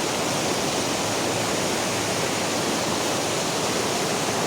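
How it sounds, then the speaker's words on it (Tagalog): A stream near a bridge flows toward the sea, a dense, steady rushing of water that fills the clip at an even level, with no speech. "Ipakita na ko sa inyo mga kaidol ang sapa mga kaidol. Tara mga kaidol, ang sapa mga kaidol."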